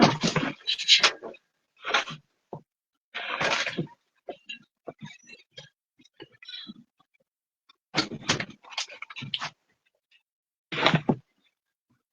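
A dog pants loudly in quick broadband bursts during an indoor Shabbat service, with short gaps of quiet and faint scattered rustling between the bouts.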